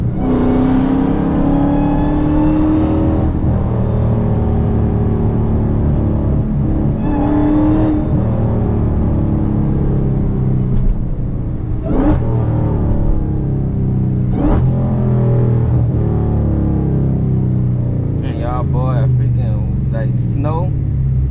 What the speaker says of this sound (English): can still hear the supercharger while the hood was on